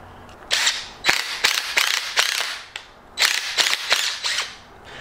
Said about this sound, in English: I was just gonna run that nylock nut down one time with my impact, just to make it a little bit easier to put on there.